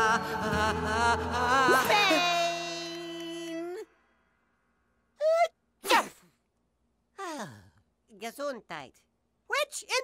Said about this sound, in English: Sneeze if you have to, sneeze if you need to.